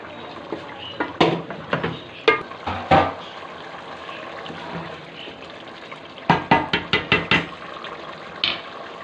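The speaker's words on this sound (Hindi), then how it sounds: "हम थोड़ा सा पानी छोड़कर दाल को अंदर दम में देंगे।" Water poured into a pot of cooking dal maash, heard as clustered sloshing splashes and clinks in two bursts separated by a quieter stretch, close and fairly loud.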